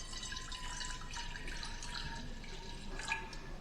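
Apple cider vinegar pours into a pan in a soft, steady trickle with faint splashy drips, quiet and continuous throughout.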